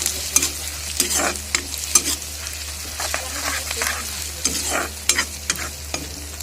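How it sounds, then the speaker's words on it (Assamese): Onions sizzle and crackle in a hot pan as they fry to light brown, while a spatula stirs and scrapes in irregular strokes, close and steady throughout. "এতিয়া পিঁয়াজখিনি অলপ ব্ৰাউন কালাৰ নোহোৱালৈকে মই এইখিনি ভাজিম"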